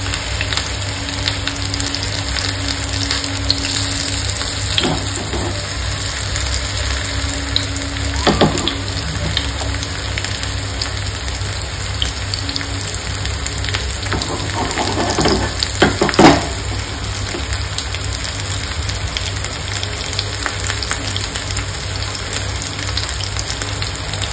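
Paneer cubes shallow-fry in oil in a pan, making a continuous bright sizzle with occasional louder crackles and soft scrapes, and no voices.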